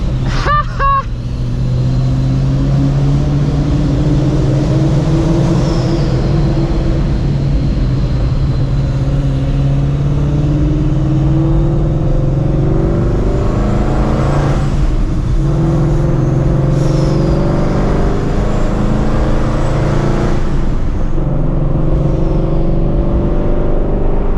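A loud, close engine of a 700 hp ProCharged Shelby GT350 rumbles and revs continuously, rising and falling in pitch with a whining supercharger tone, with brief louder surges throughout.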